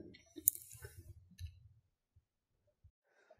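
A computer mouse button clicks sharply a couple of times close up on a Mac, followed by faint scattered ticks in near silence.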